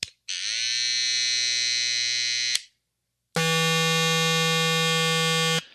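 A string trimmer whines at full speed in two loud, steady bursts, the second more piercing, separated by a short silence.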